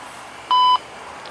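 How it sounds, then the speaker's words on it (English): A CSX railroad equipment defect detector gives a single short, clean electronic beep of about a quarter second, loud against faint background hiss. "CSX equipment defect detector."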